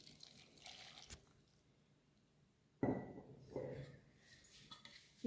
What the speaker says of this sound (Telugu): కొంచెం వాటర్ పోసుకుందాము